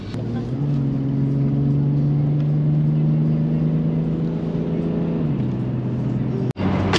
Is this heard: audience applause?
no